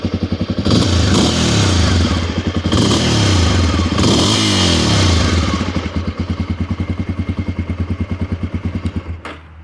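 A 1988 Honda NX 250 dual-sport motorcycle's single engine runs close by, starting with loud revving bursts and then settling into a rapid, even idle thump before cutting off at the end.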